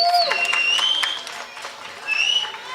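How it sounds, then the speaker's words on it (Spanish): An audience at a live guarania music performance claps for a flute player, with shrill whistles rising over the applause; a voice speaks beneath it. "Por favor, un aplauso para ella en la flauta."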